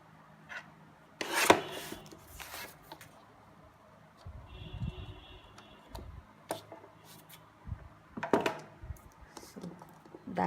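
Craft paper, a Kaisercraft Bombay Sunset sheet, is trimmed with a paper trimmer or blade, giving faint scattered slicing, rubbing and tapping sounds close by with quiet gaps between them.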